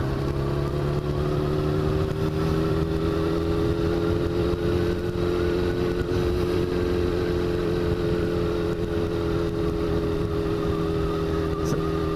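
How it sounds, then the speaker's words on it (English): A 2000 Kawasaki ZX6R motorcycle engine runs at a steady idle, a close, even, continuous drone with no change in pitch, heard alone. "So the bike starts right up."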